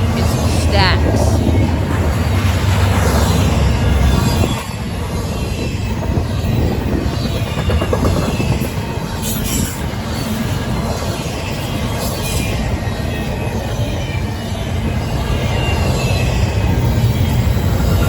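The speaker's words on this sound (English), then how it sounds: "CSX I-158, heading back to Port Newark, New Jersey, to drop off some auto racks and some stacks" CSX freight train I-158, hauling auto racks and stacked containers, rolls past at Berea, Ohio, a loud sustained rumble of wheels and cars close by, with a sharper burst at the start and brief squeals later.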